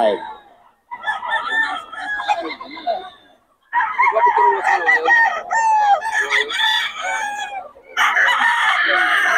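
A Golden Boy Sweater gamefowl stag crows loudly and close in repeated long calls with short gaps, mixed with clucking, while people talk nearby.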